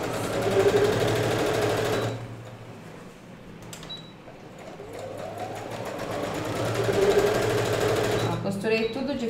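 Sewing machine stitching the handles onto a baby's daycare bag, running in a steady close whir that starts and stops, with faint clicks in between.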